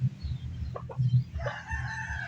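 Bantam and labuyo roosters crow nearby in two short, close bursts, a brief cackle followed by a longer drawn-out call, with low clucking and farmyard noise underneath.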